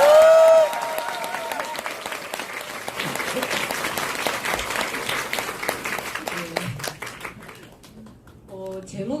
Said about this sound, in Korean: 누스킨 박수 말고 한호 박수 부탁드리겠습니다